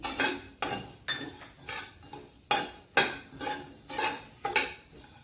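Fennel seeds and cardamom pods dry-roast in a pan for puran poli, stirred in a steady rhythm. Close, scraping strokes repeat about eight times with brief gaps between them, and no voices are heard.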